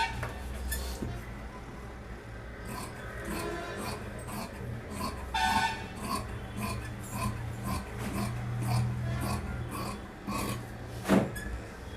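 Scissors cut through pant cloth during straight-cut tailoring, a steady series of crisp snips repeating every half second or so over a low background hum.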